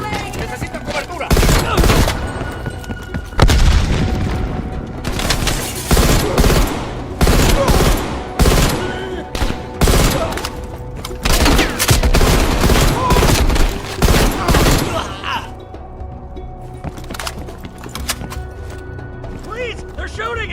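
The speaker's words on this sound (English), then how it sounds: "They're shooting at us!" Dense, loud gunfire fills a Call of Duty Cold War firefight: repeated automatic bursts and single shots with metallic weapon clatter, mixed with shouting voices. The shooting stops near the end, leaving quieter background noise.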